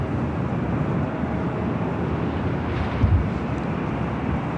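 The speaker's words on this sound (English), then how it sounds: "Have a 777 freighter taking off there on the south side" A Boeing 777 freighter taking off from the south side of Los Angeles airport, a distant, steady low roar of jet engines with wind buffeting the microphone.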